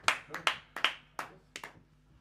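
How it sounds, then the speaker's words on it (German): A few scattered hand claps ring out at a small jazz quartet concert, about seven separate sharp claps spaced unevenly over two seconds, close by and sparse, with quiet pauses between. "Applaus, Applaus."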